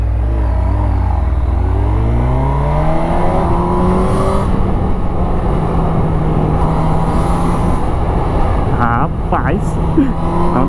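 A 2021 Honda CB1000 motorcycle revs and accelerates hard in city traffic, the engine note climbing steeply through gears before settling into a loud steady drone with wind rush.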